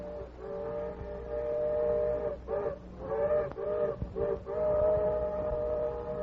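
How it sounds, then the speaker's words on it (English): Steam train engine approaching with its whistle sounding in several long, chord-like blasts broken by short gaps, over a low rumble of the running locomotive. "The Lone Ranger heard the engine's whistle in the distance"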